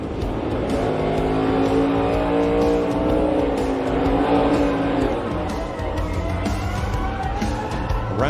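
A NASCAR Cup Series race car spins around under caution at lap 3 of the Illinois 300, engine roaring loud and steady with shifting pitch and a hint of tire squeal, other cars droning close by throughout.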